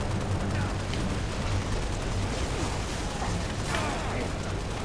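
Halo: The Master Chief Collection gunfire in a busy firefight, continuous loud crackle of weapons and mechanical clatter with no clear gaps, dense and close throughout.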